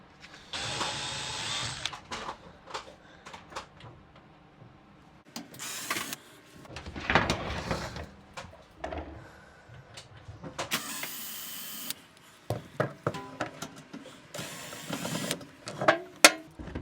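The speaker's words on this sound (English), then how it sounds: "Remove these screws, just like this." Screws come out of an LG microwave under a powered screwdriver in several short whirring bursts, separated by quieter clicks and handling noises nearby.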